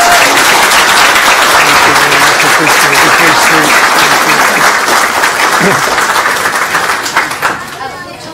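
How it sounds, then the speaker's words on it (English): Applause at a school district board of trustees meeting fills the room, dense steady clapping from a crowd at close range that carries on loudly, then thins and fades toward the end. "How about one more round of applause?"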